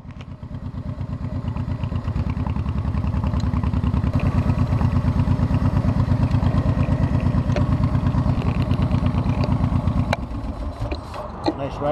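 Motorcycle engine on a Cannonball 1000 ride, a steady loud pulsing rumble held close for about ten seconds, then easing off near the end as a voice starts.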